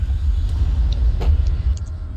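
The Warthog vehicle's engine in Halo: Combat Evolved, a loud, steady low rumble close by with a few faint clicks and blips from the game on top.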